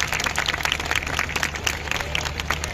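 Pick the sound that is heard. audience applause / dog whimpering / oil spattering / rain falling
audience applause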